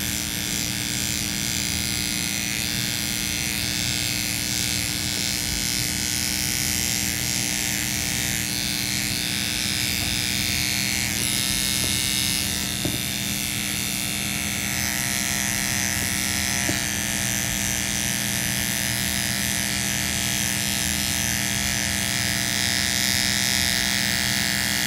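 An electric shaver runs steadily across a face, giving a constant buzzing drone with slight shifts in pitch as it moves over stubble, close and alone for the whole stretch.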